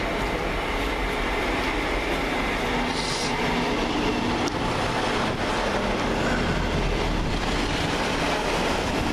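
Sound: East Midlands class 158 train at Peterborough station

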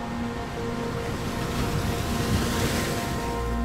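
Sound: ocean waves breaking on shore

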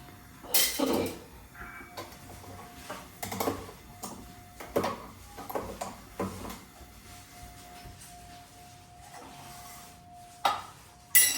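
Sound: pot being placed on the stove

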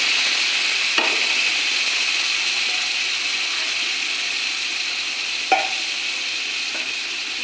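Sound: frying and stirring masala with onion and garlic

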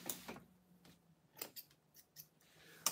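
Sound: scissors trimming fabric while sewing

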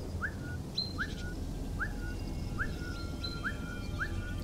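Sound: character whistling in Velvet Assassin video game

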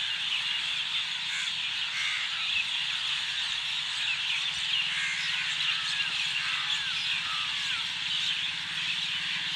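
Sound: crows cawing in a large flock

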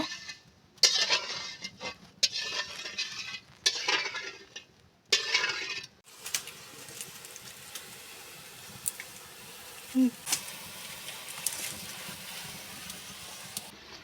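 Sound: stirring sugar syrup in a pan

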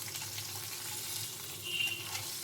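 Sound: frying in oil in a kadai

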